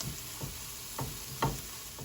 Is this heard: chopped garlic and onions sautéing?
yes